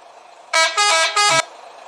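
Three loud bus horn honks in Bus Simulator Indonesia in quick succession, the middle one longest, each a strong steady tone with a low rumble at the end.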